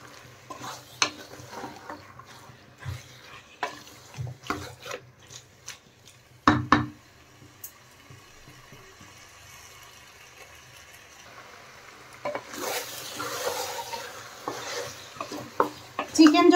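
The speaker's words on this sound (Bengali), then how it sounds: "চিকেন এখন ভালোভাবে নেড়েচেড়ে আমি কষিয়ে নেব।" Marinated chicken sautéing over high heat in a pan, stirred with repeated scraping and clacking strokes over a steady sizzle that swells louder near the end.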